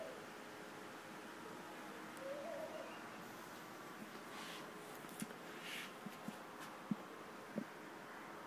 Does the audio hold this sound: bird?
yes